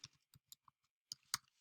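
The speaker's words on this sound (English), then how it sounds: "as soon as I started typing, the video paused to let me collect my thoughts." Scattered keystrokes on a computer keyboard, a handful of quiet, irregular clicks separated by pauses, fairly close and alone with no talking.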